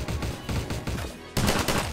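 Rapid bursts of automatic gunfire crackle almost continuously, with a brief lull before a louder volley resumes; no voices.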